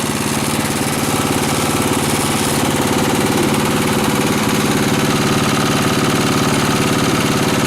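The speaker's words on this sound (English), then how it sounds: "there's something wrong in that motor, I think." A faulty snowblower motor runs continuously with a loud, close, steady chugging drone and a rapid mechanical rhythm, heard alone without voices.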